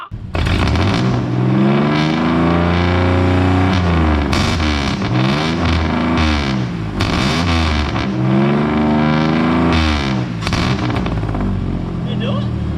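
A car engine is revved hard again and again at close range, each loud blip climbing and falling in pitch, with sharp exhaust cracks between the pulls.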